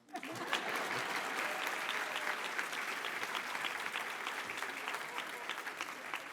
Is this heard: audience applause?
yes